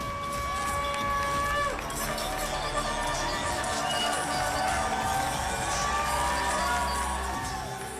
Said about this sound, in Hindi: लोगों ने तालियां बजाकर अपनी खुशी का इजहार किया।